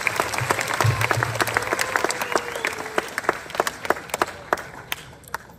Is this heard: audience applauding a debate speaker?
yes